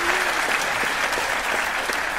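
Lecture-hall audience applauding guests Richard Dawkins and Lawrence Krauss at a science event in Belgium; dense, sustained clapping from a large crowd with a faint murmur underneath.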